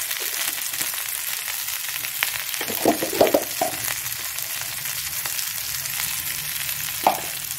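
Tomatoes and turmeric with a pinch of salt frying in a pan for a kidney-bean ghugni, a steady close sizzle broken by a few soft crackling stirs and one brief scrape toward the end.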